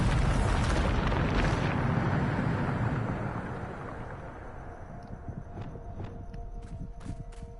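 A Bombarda spell blast in Hogwarts Legacy on PS5 opens with a loud, broad burst that rolls and rumbles for a few seconds. It fades into quieter debris crackle with faint tones.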